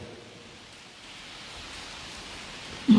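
Rain falling steadily on the grounds of Wat Doi Thep Nimit temple in the morning, a constant soft hiss that swells slightly over time, ending with a brief nearby clunk.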